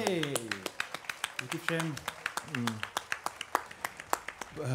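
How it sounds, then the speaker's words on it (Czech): Audience applause at a folk festival concert, with sharp claps in a steady, regular rhythm sounding throughout under someone talking over a microphone. "Pojďme zatleskat všem těm."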